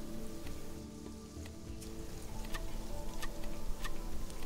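Water patters steadily like a running shower in the video game Sheltered, a soft continuous hiss with small droplet ticks, fairly quiet, with faint bird chirps in the background.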